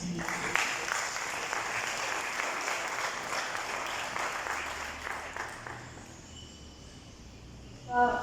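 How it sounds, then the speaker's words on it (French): Steady applause from a crowd fills the room, clapping dense and sustained before tapering off toward the end. "la poète et slameuse Zainab Solfou, sous vos applaudissements."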